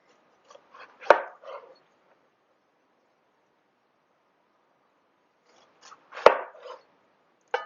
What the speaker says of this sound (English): I am going to cut these into about 1/2 inch slices.